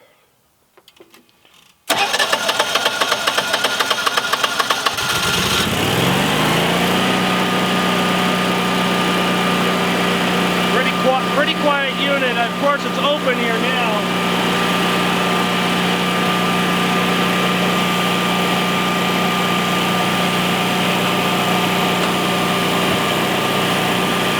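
A Generac home backup generator engine cranks and starts after a brief low rumble, then settles into a steady, loud, continuous hum with a fixed mechanical drone that holds unchanged to the end.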